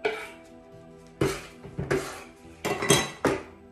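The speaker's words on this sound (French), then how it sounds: "Je mélange à nouveau" A spoon stirs quinoa salad with sesame seeds in a bowl, giving several close, irregular clinks and scrapes against the dish in quick bursts, with no talk over them.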